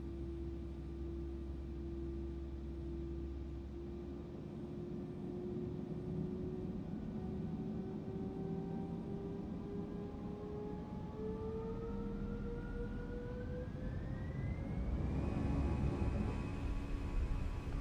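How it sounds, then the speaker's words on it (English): An airliner's jet engines spooling up in Microsoft Flight Simulator 2024 before departure for Amsterdam, a steady whine that rises gradually in pitch and grows louder toward the end, with no voices. "Ready for some engine noise?"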